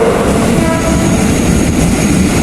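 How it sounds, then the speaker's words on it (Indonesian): Commuter train pulling into Tanah Abang station, a steady loud rumble and rolling roar of the arriving cars filling the platform throughout, with no speech. "Oke, kereta datang."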